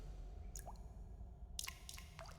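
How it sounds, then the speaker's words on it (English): Faint water drips from a Minecraft mod that gives water particles sound, a few sparse, soft plinks over a low ambient hum, with no talking. "It adds drip sounds to water particles."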